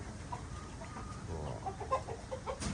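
Chickens on a farm cluck in short, scattered calls over a low, steady background rumble, fairly close by.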